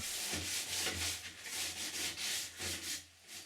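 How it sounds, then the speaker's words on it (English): A kayak's curved surface is hand-sanded ahead of a polyurethane varnish coat, giving steady rhythmic rubbing strokes with a soft low thump on some passes, close and continuous. "Here I do some sanding before the morning run"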